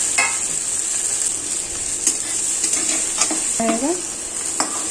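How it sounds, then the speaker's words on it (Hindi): Masala being stirred into stuffed bitter gourd in a hot pan, a steady sizzle under scattered spoon scrapes and taps, with a brief clattering ring near the end. "जो भी मसाला था सब इसमें मिक्स कर दी"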